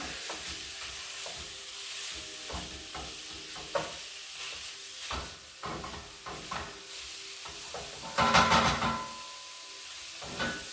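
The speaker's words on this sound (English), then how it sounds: "We're going to take our trusty old mixing chop and break that beef apart so it can start cooking nice and even." Ground beef frying in a skillet for sloppy joes is broken apart with a mixing chopper, making rhythmic scraping and chopping strokes over a soft sizzle, close by, with a louder burst of scraping near the end and no speech.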